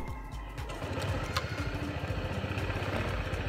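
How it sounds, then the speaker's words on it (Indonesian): A Honda PCX 160 scooter idles close by, its exhaust giving a low, smooth, steady throb with a soft rhythmic pulse and no voices over it. "suara knalpotnya itu seperti ini"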